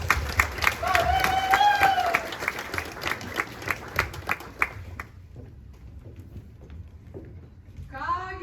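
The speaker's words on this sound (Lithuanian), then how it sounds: "Kviečiu Kapitolico damas! Pasitikime aplodismentais!" An audience breaks into applause for the Capitol ladies at a school ceremony, with dense clapping and a voice over it at first, then thinning to scattered claps before a voice returns.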